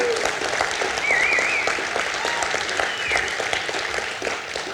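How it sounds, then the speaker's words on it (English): An audience applauds at a Las Cruces, New Mexico film studio event, dense steady clapping filling the room with a few cheers and whistles rising over it, then tapering slightly toward the end. "So give Todd and 828 another round of applause."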